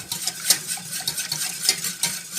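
Sauce aurore, made with milk and tomato, being stirred and mashed vigorously in a pan, with quick repeated scraping and clattering strokes and a faint sizzle underneath, close and fairly loud.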